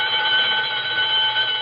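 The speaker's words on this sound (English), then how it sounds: "That burglar alarm on Bernstein's first door. It always goes haywire at 7:32." A burglar alarm on a door rings without pause as a sound effect in a 1945 radio comedy. The electric bell buzzes steady, loud and shrill, with no talk over it.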